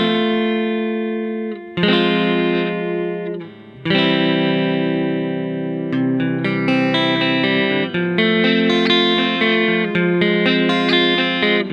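Clean electric guitar strums a sequence of MMT cadence chords, each chord ringing out for a couple of seconds before the next, alone with no talking.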